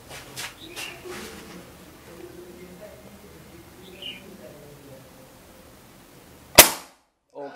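Quiet outdoor ambience with faint birds, then a single sharp, loud crack of an air rifle shot near the end, followed by silence.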